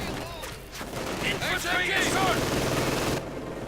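MG42 machine gun fire in the Company of Heroes 2 strategy game, a dense rattle of bursts blended with other battlefield gunfire and explosions throughout, then dropping away near the end.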